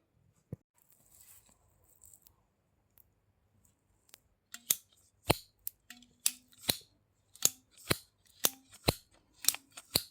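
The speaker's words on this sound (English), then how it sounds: "now I'm taking a new hose and I'm gonna cut it and replace it" Scissors cutting a new refrigerant hose for a Tesla Model S Dual Motor, a quick series of about ten sharp, crisp snips in a steady rhythm, close up, with no talking.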